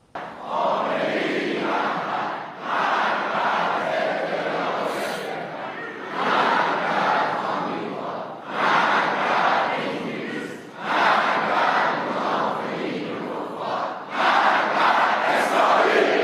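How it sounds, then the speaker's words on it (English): A large crowd at a Khamenei rally chants in unison, repeated loud rhythmic bursts of massed voices separated by brief pauses. "the crowd chanting "Death to America, death to England, and death to Israel.""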